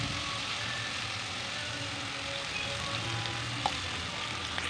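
Chopped onion, ginger, garlic and bay leaf sauté in mustard oil in a kadai, a steady, moderately quiet frying hiss with a faint low hum beneath and one brief clink near the end.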